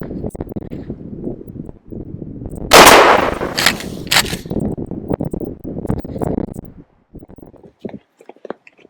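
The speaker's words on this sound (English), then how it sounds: "First shot from 15 feet." A single close, loud shotgun blast fires Winchester 00 buckshot from 15 feet, with the sharp report ringing out briefly amid quieter handling noise and faint voice.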